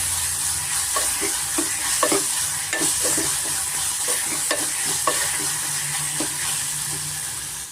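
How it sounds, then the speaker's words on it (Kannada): Ginger garlic paste frying in oil for a greens-stem curry gives a loud, continuous sizzle close by, with repeated stirring clicks and scrapes against the pan throughout. "ಶುಂಠಿ ಬೆಳ್ಳುಳ್ಳಿ ಪೇಸ್ಟ್ ಸೇರಿಸ್ಕೊತಾ ಇದ್ದೀನಿ"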